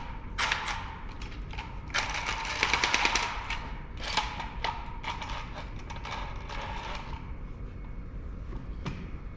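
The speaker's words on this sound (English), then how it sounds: "So now I can go ahead and grab my clamps." Metal bar clamps being handled and tightened onto a wood veneer panel in a workshop, giving a series of close clicks, clunks and rattling knocks, some dense bursts, with no talking.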